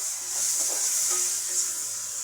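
Spices with turmeric and oil stirred in a kadai for an aloo dalna, giving a steady bright sizzle with soft scraping strokes, close and continuous, ending in a brief clatter.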